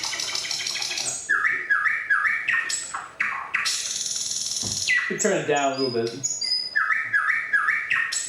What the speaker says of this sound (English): here's a thrush nightingale, kind of nightingales you have in Finland